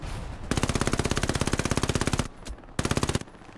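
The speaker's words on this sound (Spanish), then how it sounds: "Hay alguien disparando desde el borde del mapa." Rapid automatic gunfire in Hell Let Loose, a long fast burst followed by a short pause and a second shorter burst, loud and close.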